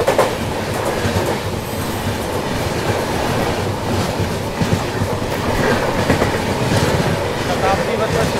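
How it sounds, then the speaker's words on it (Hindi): The Chennai Bangalore Shatabdi Express rushes past on the adjacent track, a loud continuous roar of wheels and clattering carriages close by, with faint voices underneath. "सामने से कौन सी ट्रेन आ रही है? वो है चेन्नई बेंगलोर शताब्दी एक्सप्रेस"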